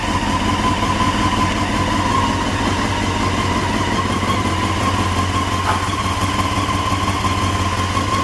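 Honda CBR600 F4i sport motorcycle engine idling just after a cold start, a steady, even rumble with a constant whine, close and loud throughout with no talk.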